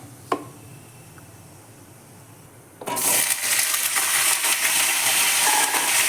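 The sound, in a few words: frying bay leaves, cumin and Malabar spinach stems in oil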